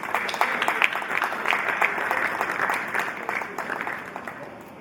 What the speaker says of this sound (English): I think another round of applause is perfectly placed.